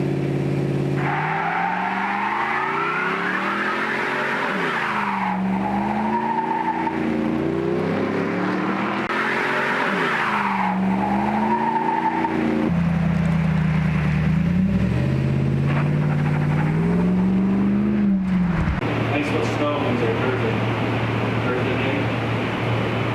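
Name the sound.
burnout, V8 1952 International H tractor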